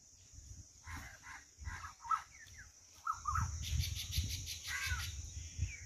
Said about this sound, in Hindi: वड के ऊपर कितने काग बैठे हुए कौवे।